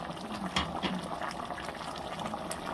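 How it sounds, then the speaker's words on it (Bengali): Chicken curry with cauliflower simmers in a pot, cooking down in the juices released by the meat, with a steady, soft bubbling and sizzling hiss throughout and a few louder pops. "মাংসটা পানি ছেড়ে দিছে। এই পানিটা আমি একদম কষাই নিব।"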